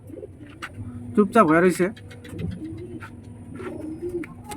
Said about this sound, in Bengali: তো প্রথমে তোমাকে দেখাই একটা দেশি কবুতর।